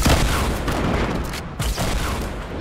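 Rapid explosive weapon fire from the Fortnite battle royale game, a dense continuous barrage of booms and gunfire-like blasts filling the whole stretch, loud and without talk.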